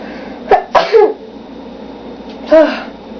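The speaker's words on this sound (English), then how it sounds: "Oh, sorry, I'm gonna sneeze." A close, sharp sneeze with a quick intake before it, followed a moment later by a second, shorter burst.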